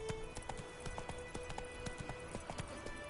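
Roach the horse galloping in The Witcher 3, a faint, quick and even clip-clop of hoofbeats running continuously under a low game soundscape.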